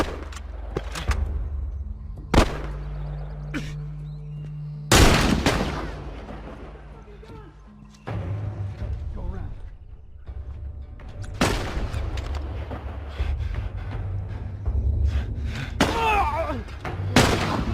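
Sniper rifle gunfire in The Last of Us: several sharp, loud cracks with booming tails come at irregular intervals, among quieter thumps and movement, with a voice briefly heard.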